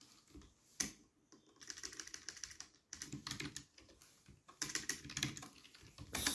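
Computer keyboard being typed on while entering a line of Java code, with quiet bursts of rapid clicking separated by short pauses, close and fairly soft.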